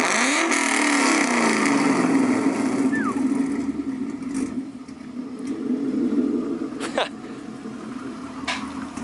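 A 2014 Ford Mustang GT RTR fitted with BBK longtube headers is blipped, its V8 snarling up through a sharp rev then settling into a loud, rumbling idle with more short throttle taps, close by and raspy.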